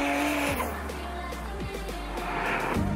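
Race car engines roar and rise in pitch as they accelerate hard, with revving sweeps and a steady loud engine drone throughout.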